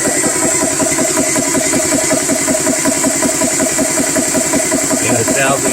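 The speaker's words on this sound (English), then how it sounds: "this little compressor still chugging" A GX CS3 PCP high-pressure air compressor runs steadily, connected to an air rifle, with a fast, even chugging pulse of its pump and a constant motor drone throughout, close and loud.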